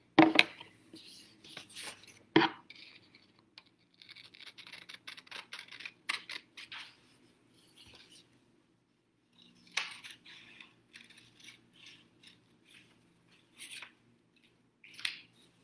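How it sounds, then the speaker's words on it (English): Scissors snip a small square out of paper for a peacock craft, with sharp close cuts in short bursts separated by quiet pauses and small handling clicks of paper and blades. "So I'm going to cut a little square out from the paper."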